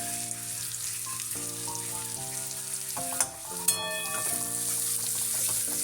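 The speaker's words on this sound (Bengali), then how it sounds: "সামান্য একটু ভেজে নিচ্ছি।" Ground prawn heads fry with garlic and turmeric in a pan, a steady close sizzle with a couple of sharp stirring scrapes and no talking.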